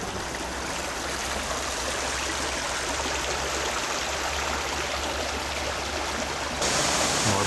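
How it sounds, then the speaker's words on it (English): A steady, rushing babble of a small flowing brook in New Zealand, close by and continuous, with no voices over it. "Ah, a little babbling brook."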